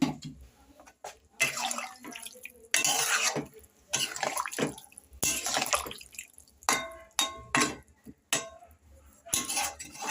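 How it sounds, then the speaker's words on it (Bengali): A little water poured into a cauliflower curry in a pan, with a sequence of splashing, sizzling bursts and clinking of utensils against the pan, in irregular close-up pulses. "আমি এখন এর ভিতরে একটু জল দিয়ে দিচ্ছি।"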